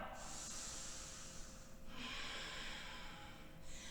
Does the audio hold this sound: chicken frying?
no